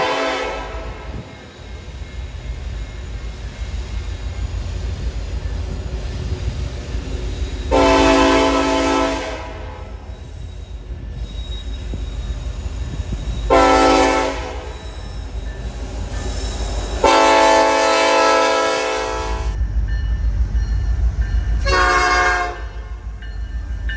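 Freight trains roll past a crossing near an Atlanta rail yard, a steady low rumble of cars and wheels running throughout, broken by four loud, sustained horn blasts of a few seconds each, close by and clear.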